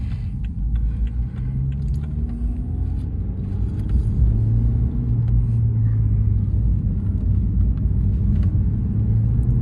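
Interior engine drone of a BMW 1 Series with a small 1.6-litre engine climbing a hill, a steady low rumble with rising pitch as it pulls, and no talk.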